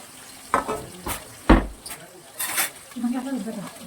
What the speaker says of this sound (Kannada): ಸೊ ಇವಾಗ ಆನಿಯನ್ಸ್ನೆಲ್ಲ ಫ್ರೈ ಮಾಡಬೇಕು